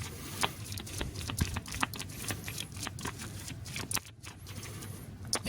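A deck of game cards is shuffled by hand in quick, irregular riffles and taps, close and fairly quiet, with no talk.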